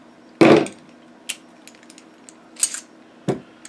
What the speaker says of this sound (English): But to make it work, I got to dismantle the bolt.